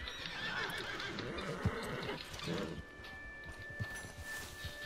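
A horse neighs in the Red Dead Redemption 2 video game, rain-like noise underneath, with a louder whinny burst near the middle and scattered hoof-like thumps, fairly close and moderately loud.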